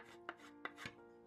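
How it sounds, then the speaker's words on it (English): Dried wood filler is scraped off small wooden frames in three short, quiet strokes set close together. "I'm going to scrape off that dried wood filler and just make that smooth"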